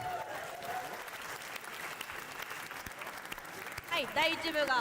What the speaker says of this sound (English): Let's just have a big round of applause for all those entries.